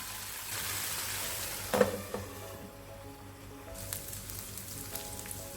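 Chicken fries steadily in a pan for fried rice, a soft continuous sizzle with faint stirring scrapes, no voices.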